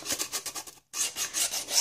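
Sandpaper rubbed back and forth along a line on a piece of wood, a close steady rasping in quick strokes, briefly pausing before resuming.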